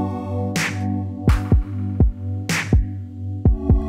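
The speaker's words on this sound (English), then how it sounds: "Next, we added a bit of a clap just to kind of fill in those gaps." Kick and snare hits in a beat pattern are joined by a layered clap filling the gaps, with deep thumping kicks and bright hits over a sustained low synth bed.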